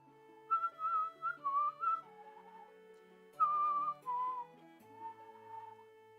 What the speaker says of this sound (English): I didn't know a slide whistle could actually count as a real instrument.